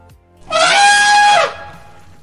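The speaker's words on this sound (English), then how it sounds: "Elephant." An elephant trumpets once, a loud, bright, brassy blast lasting about a second that stands out alone against a quiet background.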